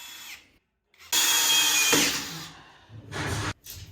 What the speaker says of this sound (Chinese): 打4个孔不到2分钟就搞定了